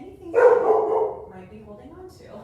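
A single nearby dog bark or yelp bursts out briefly over a calm voice that keeps talking.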